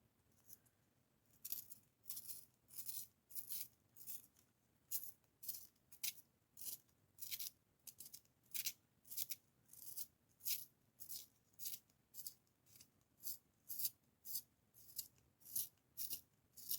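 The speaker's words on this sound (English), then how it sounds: "We have this little tiny guy here to sharpen our pencil." A small handheld pencil sharpener grinds a pencil in steady repeated twists, about two per second, each a crisp scraping burst, close and fairly quiet with no talking.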